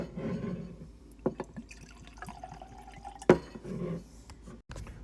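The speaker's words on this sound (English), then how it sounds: "we're gonna crack it, put it in a glass" Elijah Craig Toasted Rye whiskey being poured into a glass: a soft trickle with a few light drips and clinks of glass, close and fairly quiet, with no talking.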